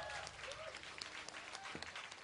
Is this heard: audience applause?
yes